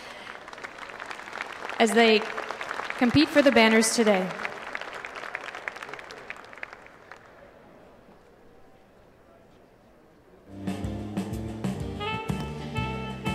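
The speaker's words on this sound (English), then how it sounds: "let's give our contenders for junior champion a big round of applause" Applause at a Holstein dairy cattle show for junior champion contenders, swelling into a loud, broad clapping surge that fades to a quiet hall, with an announcer's amplified voice speaking over the crowd.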